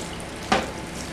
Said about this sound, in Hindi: तो फिर से जो है इसे बिल्कुल अच्छी तरह फ्राई कर लेते हैं।